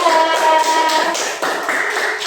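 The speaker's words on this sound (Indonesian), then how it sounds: "beri tepuk tangan dulu yang meriah untuk kelompok 2" A classroom group claps for a student team, a brief, dense burst of close hand claps with some voices mixed in.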